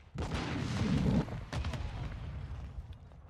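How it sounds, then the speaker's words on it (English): A flash grenade bursts in the Wo Long: Fallen Dynasty video game, a heavy booming blast that rumbles for about a second, then a second sharper crack and a fading low tail. "Throwing flash grenade!"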